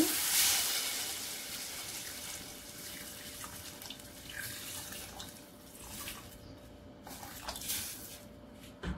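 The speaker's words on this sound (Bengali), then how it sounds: "গরম পানি দিয়ে দেব" Hot water poured from a tap-like stream into a pot of spiced chicken for Chicken Mandi, a steady, close running-water rush lasting throughout with faint clinks near the end.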